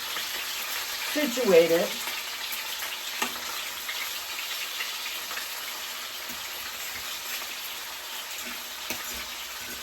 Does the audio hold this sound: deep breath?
no